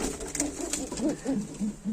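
Tumbler pigeons coo in soft, repeated rounded calls close by, layered over a steady background murmur of more birds.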